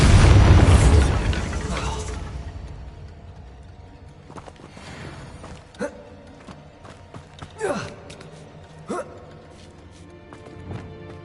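A booming Bombarda explosion spell from a Harry Potter video game bursts loudly at once, then rumbles and fades, followed by scattered thuds, clatters and whooshes of debris and effects.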